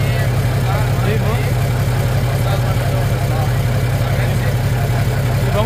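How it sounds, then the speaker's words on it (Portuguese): A Valmet 118 tractor engine idles steadily with a deep, loud low-frequency rumble that stays constant throughout, with no revving. "Vamos acelerar o Jeep, até a próxima."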